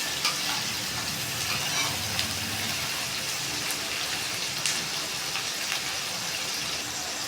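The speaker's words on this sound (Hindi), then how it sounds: "अच्छी तरह इस तरह भून लेंगे। प्याज़ों को हमने जलाना नहीं है" Onions and four chilies fry in a pan for a beef kofta recipe, giving a steady, dense sizzle with faint stirring scrapes throughout, close and constant with no talking.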